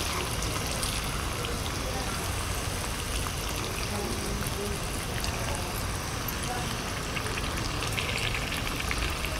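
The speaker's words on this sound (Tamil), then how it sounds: "இப்போ புளி ஊற்றிடலாம்" Tamarind water poured into a simmering pot of kuzhambu, an oil-rich brinjal curry, makes a steady close trickle and hiss with faint bubbling sizzle throughout.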